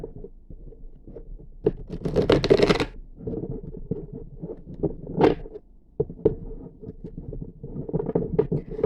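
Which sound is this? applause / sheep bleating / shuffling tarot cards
shuffling tarot cards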